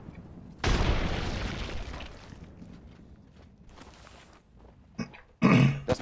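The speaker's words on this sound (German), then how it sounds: "Granate." A grenade in Apex Legends bursts with a sudden loud boom that decays over a couple of seconds, followed by scattered thuds and a second sharp hit near the end.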